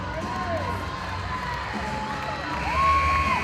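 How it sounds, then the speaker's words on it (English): Basketball fans cheer and shout at a women's college basketball game in a large indoor gym, with whoops and scattered voices rising near the end. "Blue Jay fans cheering them on."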